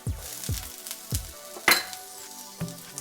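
Onions and shallots sizzle in a pan, a steady frying hiss broken by several low thumps and a sharp clink of utensil on pan near the middle, with nobody talking.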